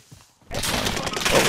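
Enemy gunfire in a video game, a sudden loud burst of rapid shots after a quiet start, continuing steadily to the end with faint talk beneath.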